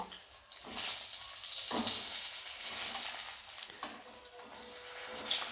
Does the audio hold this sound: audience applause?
no